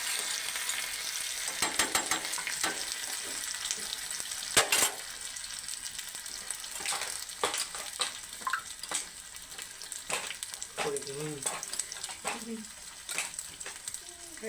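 Chili paste frying in a home kitchen pan for pakoras with curry leaves, a steady loud sizzle running throughout, broken by sharp spatter pops and clinks of stirring, with a brief voice near the end.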